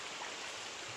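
A wilderness creek along the Mountains to Sea Trail near Harper Creek gives a faint, steady rush of flowing water, even and unbroken throughout.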